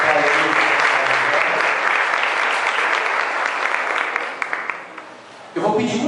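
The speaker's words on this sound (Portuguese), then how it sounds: "Possamos aplaudir para Jesus." A church congregation at a Portuguese-language praise and worship service claps together in a loud, sustained burst that thins out near the end before a voice cuts back in.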